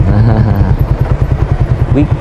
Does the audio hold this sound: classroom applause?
no